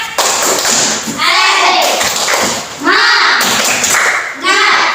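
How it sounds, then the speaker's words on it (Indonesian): Schoolchildren in a fourth-grade class perform a rhythmic spirit clap, with bursts of hand claps and taps repeating in a few loud waves, mixed with children's voices. "Tepuk semangat dulu."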